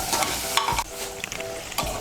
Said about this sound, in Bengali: এই দেখুন, চিকেনটাকে কষিয়ে নিচ্ছি প্রেসার কুকারের মধ্যেই।